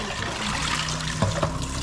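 Freshly boiled hot water pours steadily into a container, a continuous close splashing trickle with a couple of brief knocks near the end.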